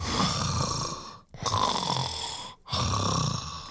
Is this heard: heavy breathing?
yes